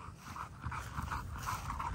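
An American bully dog pants steadily and close, with a continuous rhythmic breathing texture throughout, no talk over it.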